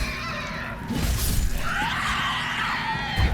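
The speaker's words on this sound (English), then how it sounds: "They let out the most screeching shrieks, or grating shrieks" Grating, screeching shrieks from enemies in Dark Souls III, harsh wailing cries rising and sliding in pitch over a rough, noisy background, fairly loud and drawn out.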